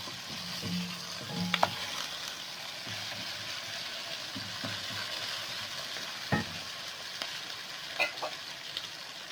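Beef mince fries with mashed tomatoes in a pan, giving a low, continuous sizzle with scattered scrapes and taps of stirring at irregular intervals; no voices.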